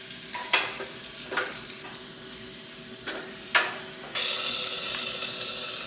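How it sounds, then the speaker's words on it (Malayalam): Small shallots stirred in hot coconut oil in a Kerala kitchen give a soft sizzle with scattered spoon scrapes, then a louder, steady hiss of frying in the final seconds, with no talking. "ഇനി നമുക്ക് വെളിച്ചെണ്ണ ചൂടായി ആയതാണ് അപ്പോൾ അതിലേക്ക് നമ്മളിതാ ചെറിയ ഉള്ളിയൊക്കെ ഇട്ട് ഇനി അത് വഴറ്റിയെടുക്കണം"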